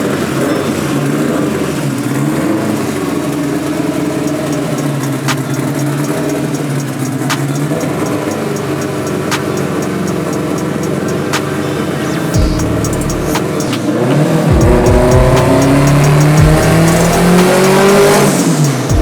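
A car engine revs hard on a dyno during a final pass, a loud sustained roar that climbs in pitch and swells louder toward the end, with no voices.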